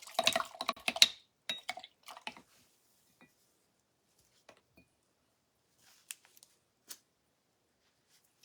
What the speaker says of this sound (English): I'm gonna put this, get this in the water and rinse out that paint